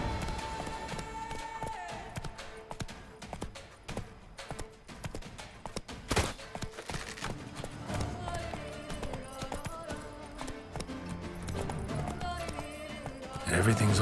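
A horse gallops in The Witcher 3: Wild Hunt with rhythmic hoof clip-clops and a whinny, mixed with game music and effects and a voice talking over it.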